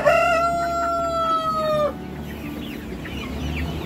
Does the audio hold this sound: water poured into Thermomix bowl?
no